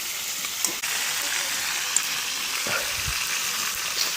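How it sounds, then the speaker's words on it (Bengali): Whole coriander seeds lightly frying in a pan, a steady close sizzle with a couple of small clicks and taps from stirring, no talk over it. "গোটা ধনে এখানে গোড়া ধরে দিয়ে দিল তো হালকা ভাজবো দেখি"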